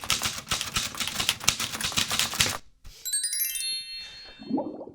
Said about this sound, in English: when you type something in a typewriter